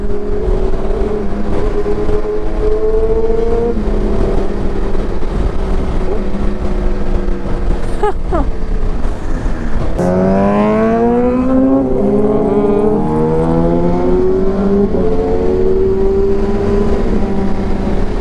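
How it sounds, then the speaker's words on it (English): A loud engine revs repeatedly with rising and falling pitch, the sharp exhaust note of an Aprilia RSV4 sport motorcycle climbing through the gears, close and continuous. "You should listen to the RSV4's exhaust sound."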